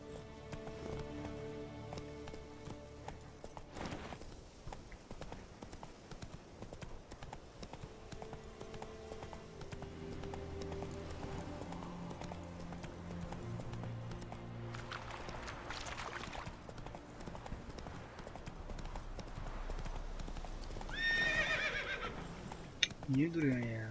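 A horse gallops and neighs in the Witcher 3: Wild Hunt video game, rhythmic clip-clop hoofbeats running under game music and ambience, a whinny breaking out near the end, while players talk over it.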